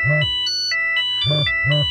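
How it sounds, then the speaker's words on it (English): A phone rings in the video game Skyhill: Black Mist, a loud electronic ringtone with repeating tonal chirps in two quick bursts, clear and close with nothing else over it. "my phone is ringing"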